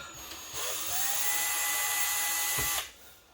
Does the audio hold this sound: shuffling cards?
no